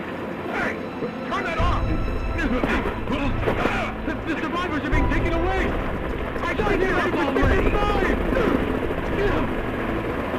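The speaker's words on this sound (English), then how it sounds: "Targets have been secured. We are exfilling via helo now. Move it! We're taking off!" Helicopter lifting off during an evacuation scene in the video game Final Fantasy VII Rebirth, a loud, steady rotor and engine roar with low rumble running throughout, layered under game voices and shouted dialogue.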